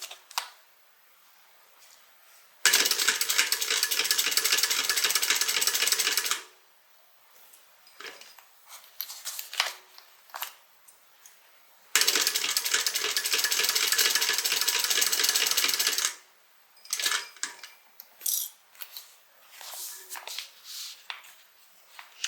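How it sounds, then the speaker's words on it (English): A sewing machine runs in two sustained bursts of stitching around a small tote bag, each lasting several seconds, loud and steady, separated by quieter handling clicks and fabric rustle. "I'm going to stitch all the way around."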